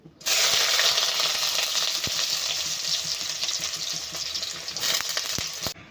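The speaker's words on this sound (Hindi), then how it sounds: "सबसे पहले मैं डालूंगी कटे हुए अनियन" Chopped onions hit hot oil and set off a sudden loud, bright sizzle that holds steadily for several seconds. A few clinks of a utensil sound close by, and there is no speech.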